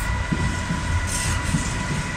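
A Maritime GBRF Class 66 diesel freight locomotive hauls a fully loaded container train out of Eastleigh station, a steady close rumble with rhythmic low thumps of wagons over the rails.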